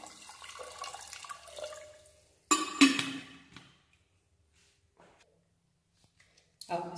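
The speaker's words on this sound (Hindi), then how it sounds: "और हम इसमें पानी डालेंगे।" Water poured into a pot of soaked chickpeas for chole, a short splashing burst in the middle, with quieter kitchen clatter and rustling before it and a brief splash near the end.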